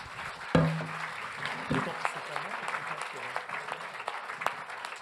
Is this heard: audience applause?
yes